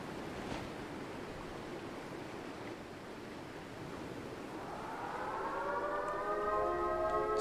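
Siren Head's low, wavering siren wail in the video game Life Is Strange: True Colors rises out of a steady hiss and swells louder toward the end, layered in pulsing tones.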